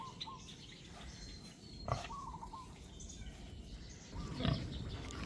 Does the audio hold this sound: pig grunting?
yes